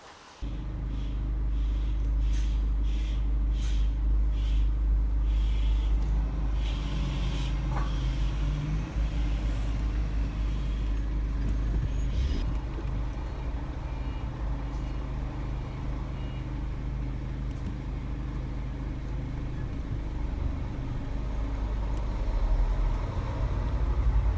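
A Mitsubishi Safir bus drives a short trip, its engine a steady loud low rumble throughout with road noise and occasional faint higher rattles and clicks, no talk.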